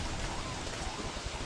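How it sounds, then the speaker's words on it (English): Steady heavy rain from the video game Don't Starve, a dense, even hiss that runs without a break through the moment, with no voice over it. "I won't be able to do it with all this goddamn rain"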